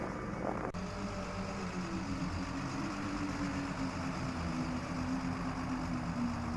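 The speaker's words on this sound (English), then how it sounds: "Sounds like an engine." A truck engine runs steadily near a crash site, a low continuous rumble with a faint sustained drone that holds evenly, after a brief noisy burst at the very start.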